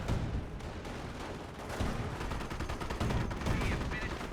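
A Greyhound armoured car fires in a Company of Heroes battle, with dense, continuous gunfire and rattling bursts layered over a busy combat din, while a commentator's voice runs underneath.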